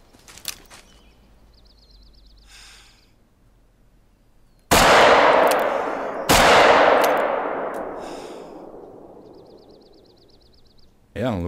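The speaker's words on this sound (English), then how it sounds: "I'm going to shoot him with the Magnum." In theHunter: Call of the Wild, a Magnum rifle fires two loud, sharp shots a moment apart, each with a long echoing decay, amid faint outdoor ambience and bird chirps.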